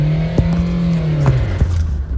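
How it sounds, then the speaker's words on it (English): The engine of a 2017 Chevrolet in reduced engine power mode revs up by itself, a loud close engine note that drops in pitch with a few knocks along the way. "It just revved out like that by itself."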